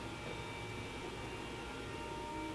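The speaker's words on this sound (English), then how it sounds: "it honestly sounded like someone was vacuuming in my house" A vacuum cleaner running somewhere in a building hallway, heard as a faint, steady, muffled drone through walls with no breaks and no talking.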